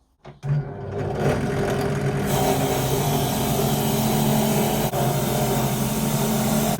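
A wire wheel spins up and works over a restored coal hammer, polishing into small divots. A motor whir rises after a couple of clicks, then a loud, steady grinding hum continues with one brief dip.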